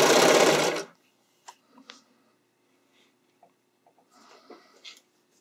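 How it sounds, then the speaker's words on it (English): A sewing machine stitches a bodysuit lining in one loud, steady whir lasting under a second, then stops. Faint handling clicks and rustles follow near the end. "Let it start sewing."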